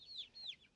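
Chickens in a backyard coop give two quick, faint, high clucks in close succession over a quiet background.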